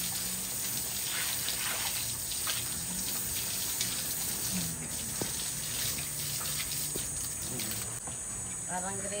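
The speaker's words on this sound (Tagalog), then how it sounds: "Parang gripo." Steady running water, like a tap left on, fills the whole stretch as a constant hiss, with faint insect chirping and a few distant voices in the background.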